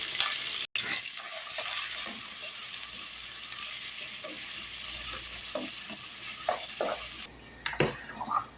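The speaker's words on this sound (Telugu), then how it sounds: "కట్ చేసి పెట్టుకున్న ఉల్లిగడ్డ మిర్చి వేసేస్తున్నాను" Chopped onions and chilies dropped into a hot pan sizzle steadily up close. Stirring scrapes and clicks sound over the sizzle, and it quiets briefly near the end before a few more clatters.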